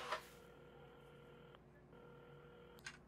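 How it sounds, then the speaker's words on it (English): Telephone dialing tones sound in the video game Assemble with Care: two long steady tones separated by a short gap, with soft clicks at the start and end, quiet and without talk. "at the counter, Carmen had started dialing the phone"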